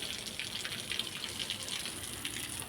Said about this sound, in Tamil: சரி செடிகளுக்கு வந்து தண்ணி ஊற்றலாம் அப்படின்ட்டு இப்போ ஊற்றிட்டுருக்கேன்